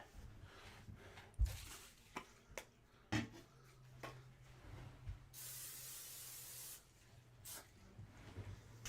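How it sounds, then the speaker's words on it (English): Pam cooking spray is sprayed into a pan in a steady hiss lasting just over a second, set among light kitchen clatter and knocks, with no talking. "Gonna get a little spray of Pam in there."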